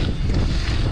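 Wind gusting hard over an outdoor street-riding and race-track course, a steady close roar of wind buffeting the microphone with low rumbling throughout the short moment.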